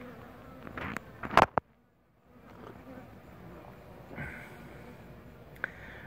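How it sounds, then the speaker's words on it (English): A yellow jacket wasp buzzes in and out nearby, a thin droning hum rising and fading, with brief rustles and a sharp knock partway through. "I see the yellow jacket."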